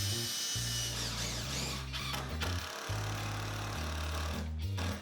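A power drill countersinks screws into wooden bench boards for an L-shaped corner bench, its motor whirring loud and close in several bursts that rise and drop in pitch with brief pauses between.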